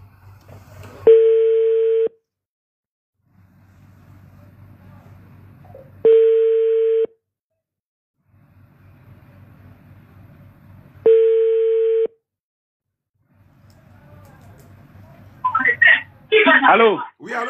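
Telephone line tones sound while a call is being placed: three steady, loud one-second beeps at regular intervals with quiet gaps between, then a voice talking briefly at the end.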